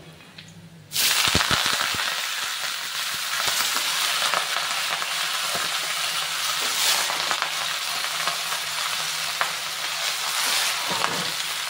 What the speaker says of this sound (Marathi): आता आपण धुतलेली भाजी त्याच्यात घालून घेऊया।